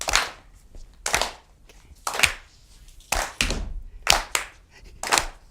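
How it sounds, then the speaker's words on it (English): An audience claps together in a steady beat, roughly one sharp collective clap per second, loud and close with a few scattered stray claps between, no talking. "I'm going to get you to start clapping, okay, everybody?"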